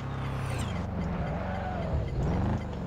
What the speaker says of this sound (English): The sound of this engine though is really good.